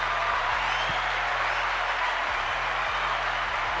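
A steady, dense wash of applause from a crowd, continuous and fairly loud for the whole stretch, with some low hum and thumps underneath at a live podcast-style event.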